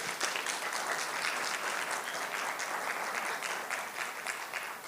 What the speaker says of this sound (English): Word of applause